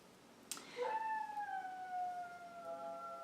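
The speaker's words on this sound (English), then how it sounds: "There's a dog outside howling." A dog howling outdoors, heard from inside: long wavering drawn-out howls that rise and slowly fall, fairly distant and moderately loud, sustained across the whole stretch after a brief sharp onset.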